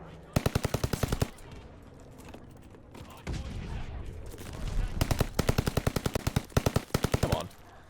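Bursts of rapid automatic gunfire from Call of Duty Vanguard, a Welgun-style submachine gun, in three loud strings of sharp repeated shots separated by quieter stretches of game noise.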